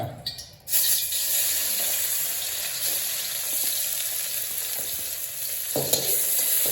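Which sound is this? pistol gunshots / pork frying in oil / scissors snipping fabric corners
pork frying in oil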